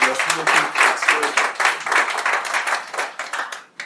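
Audience applause at a French-language talk on online privacy, a few seconds of dense clapping with some voices mixed in, fading near the end.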